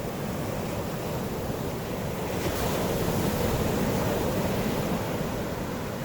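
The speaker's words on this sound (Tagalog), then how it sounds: "Lakas ng waves niya." Strong ocean waves at a beach in La Union make a continuous, dense surf rush with wind noise, steady and fairly loud with no voices.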